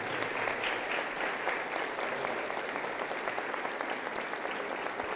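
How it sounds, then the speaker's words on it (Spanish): Church congregation applauding during a worship service, a dense, even wash of clapping hands that carries on without pause. "Aplauso contento para el Señor Jesús."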